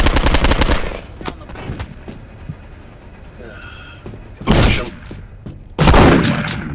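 Shotgun blasts in Postal 2, a burst of rapid loud shots at the start, then two more heavy booming discharges later, each trailing off over a low game ambience.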